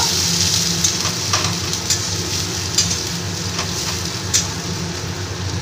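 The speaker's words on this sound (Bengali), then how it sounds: "পেঁয়াজ রসুনটা একটু ভালো করে ভেজে নেব" Chopped onion and garlic frying in a pan give a steady, close sizzle that runs throughout, with a few brief clicks and stirring ticks on top and no voices.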